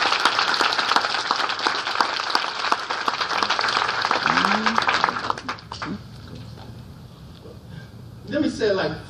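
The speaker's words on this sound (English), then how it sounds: "clap on that." Audience applause and clapping at an ACLU conference keynote, a dense, loud burst of many hands that fills the first five seconds, then tapers into scattered claps and room noise with a brief voice near the end.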